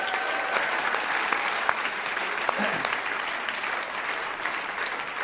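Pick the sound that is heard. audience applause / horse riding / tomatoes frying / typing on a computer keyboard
audience applause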